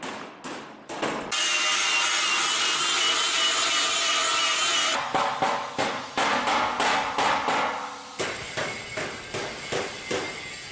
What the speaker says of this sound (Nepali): तामापाटालाई ठोकेर आकारमा ल्याउँदै